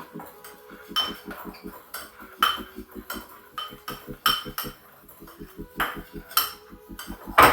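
A utensil clinks against a bowl as seasoning is stirred in, a close, light run of irregular clatters and taps.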